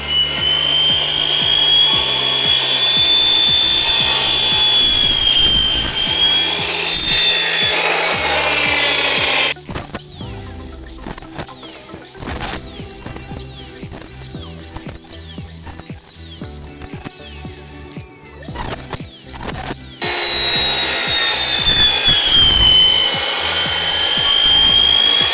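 A high-speed cutter fitted with a Maxgear cermet circular blade cuts through metal, producing a continuous loud grinding whine with a rising, shifting pitch and a rougher, busier cutting passage in the middle.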